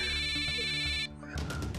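A telephone rings with a bright trilling electronic bell for about a second, then cuts off, followed by a brief clatter of noise.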